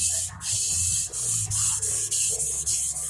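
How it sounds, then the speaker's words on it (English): A gyuto chef's knife stroked back and forth on a sharpening stone gives a close, gritty rasping hiss in quick repeated strokes, each separated by a brief pause. "I'll keep these fingers over the stone as I move back and forth."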